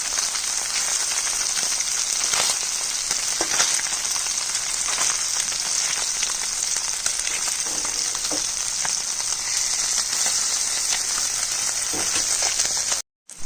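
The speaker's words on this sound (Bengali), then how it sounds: "মাছগুলো ছোট ছোট অল্প অল্প করে ভাজতে হবে, নাহলে ভেঙে যাবে।" Small, soft boroli fish fry in a pan with a loud, steady sizzle and crackle that runs unbroken until it cuts off abruptly at the end.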